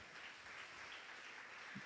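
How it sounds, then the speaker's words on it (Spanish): Church congregation applauding during a Spanish-language sermon, a faint, steady wash of clapping heard at a distance throughout. "dale un aplauso a Dios"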